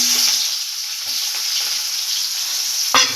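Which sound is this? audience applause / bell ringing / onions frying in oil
onions frying in oil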